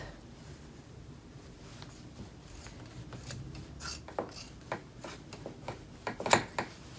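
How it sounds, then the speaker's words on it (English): Fabric shears snip through plaid flannel shirt fabric in a series of short crisp cuts, growing louder and closer toward the end, with light rustling of cloth between snips and no talking. "And then I'm going to cut that off on both sides."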